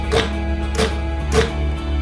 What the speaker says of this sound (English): is a technique whereby your palm mutes the strings.